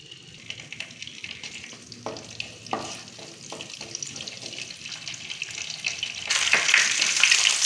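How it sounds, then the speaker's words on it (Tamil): Fennel seeds, bay leaf and cinnamon sizzle in hot groundnut oil in a pan. A soft, steady frying crackle sits under a few stirring scrapes, then grows louder and brighter near the end. "சோம்பு பொரிஞ்சதும்"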